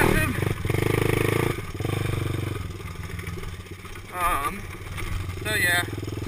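A Honda ATC200s three-wheeler engine runs with a steady droning buzz and brief rises in pitch, while a voice is heard intermittently over it.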